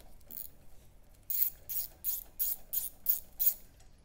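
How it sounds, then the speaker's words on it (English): A ratchet wrench loosens the top bolt on a Toro Z Master 4000 commercial zero-turn mower's front caster, a run of about eight quick, crisp clicking strokes, close and fairly quiet, after a short pause. "I can remove the top bolt."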